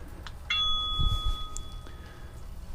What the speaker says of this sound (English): see if I hear a ringtone. I think I heard a ringtone